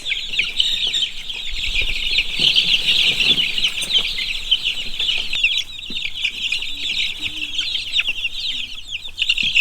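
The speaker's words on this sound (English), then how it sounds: "It's amazing how fast that they grow up from just being little bitty chicks." Small chicks in a shop brooder give a dense, continuous chorus of high peeping and soft clucking throughout, with faint shuffling and flapping underneath and no talk.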